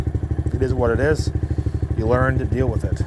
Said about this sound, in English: Let's go ahead and take her for a quick drive around the backyard.